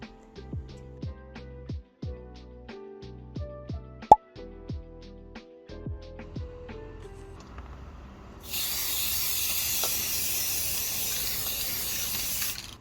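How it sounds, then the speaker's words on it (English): Spray sealant hissing from an aerosol can onto a Blythe doll, a steady close hiss lasting several seconds that starts abruptly after a stretch of quieter rhythmic background music. "it's about time to spray another layer of spray sealant on the doll"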